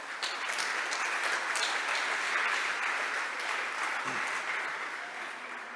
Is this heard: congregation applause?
yes